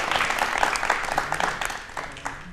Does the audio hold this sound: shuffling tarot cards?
no